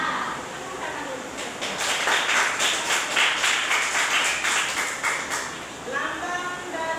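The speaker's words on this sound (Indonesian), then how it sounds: "Tepuk tangan dulu." A classroom of pupils claps hands together during a civics lesson, a dense patter of claps that swells in the middle and fades, with talk audible around and beneath it.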